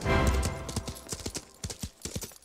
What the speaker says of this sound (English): He hopped on his horse, Philippe, and headed into town